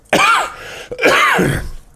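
Two harsh, close coughs with throat clearing, one short burst followed by a longer, raspier one.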